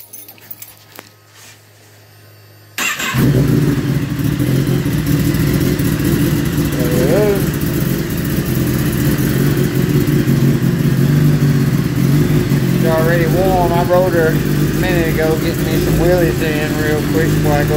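A 2012 Kawasaki ZX-10R bursts to life after a quiet moment and holds a loud, steady engine drone close by, while people talk and a dog whimpers over it.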